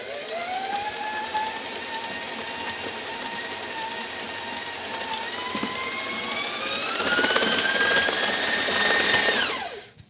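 Stand mixer beating thick gluten-free cake batter on high speed, a steady loud whirring motor whine that rises in pitch as it speeds up, then cuts off abruptly near the end.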